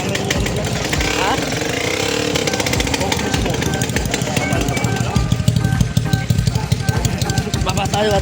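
A motorcycle that will not start, heard on a trip to hunt gold along a river, its engine rattling loud and rough throughout, with people talking over the noise.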